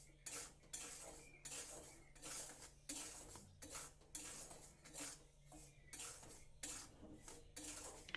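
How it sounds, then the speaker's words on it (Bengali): A spoon stirs salt with red chilli powder in a pan on the stove, scraping and clinking against the metal in a steady repeated rhythm, close and quiet, with faint frying underneath. "লবণটাকে নাড়াচাড়া করে নেব।"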